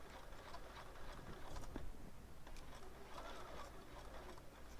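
A sewing machine stitches a Minky fabric pillow with a soft, fast, even mechanical patter that runs steadily and quietly throughout, with faint ticking clicks.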